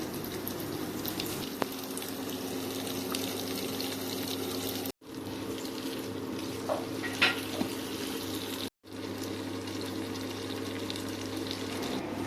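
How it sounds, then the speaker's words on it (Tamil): Potato and drumstick pieces sauté in a pan for a Tamil-style kulambu, giving a steady, even sizzle close to the pan. The sizzle breaks off briefly twice, with a few light stirring clinks along the way. "கருகாப்பில் வெட்டி வச்ச உருளைக்கிழங்கு முருங்காயை சேர்த்து நல்லா வதக்கிக்கலாம்"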